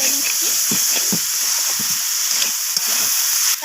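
Peas frying in a pan for vegetarian khichuri: a constant bright sizzling hiss, broken by repeated soft scrapes and knocks of a spoon stirring through them, close and loud.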